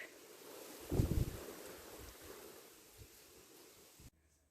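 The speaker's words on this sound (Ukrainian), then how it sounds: "Вітер на вулиці гуде і гуде, дурний такий." Wind rumbles and gusts against the microphone outdoors in Ukraine, a low steady roar with one stronger buffet near the start, cutting off abruptly at the end.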